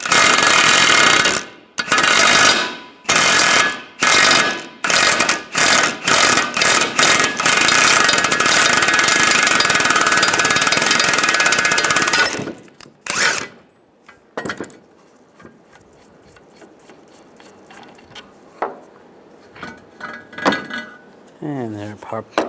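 Old front lower rearward control arm bushing on a 1998-2010 Volkswagen Beetle being pressed out: loud rapid ratcheting clatter of a press tool in bursts for about twelve seconds, then quieter metallic clicks and knocks with some talk.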